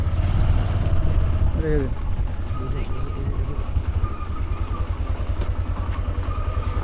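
A motorcycle engine runs steadily at low revs near a temple in Panskura, West Bengal, a constant throbbing rumble with brief jangling and voices talking over it.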